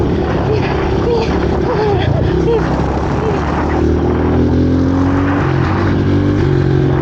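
A Honda CRF 110 dirt bike engine drones loud and close during a game of tag, its pitch rising and shifting as the rider struggles to change gears, with a voice breaking in over the motor.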